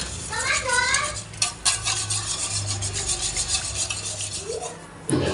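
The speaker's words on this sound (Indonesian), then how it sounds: "Lalu aku beri essence pandan, lalu aku kocok sampai merata" Rapid whisking of chiffon cake batter with pandan essence in a bowl, a continuous close scraping, rubbing rhythm with brief bright squeaks, moderately loud.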